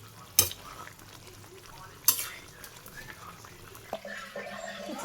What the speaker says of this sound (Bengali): গরম মশলার গুঁড়ে দিলাম আর জিরের গুঁড়ে মিশিয়ে নিই তারপর নামিয়ে নিই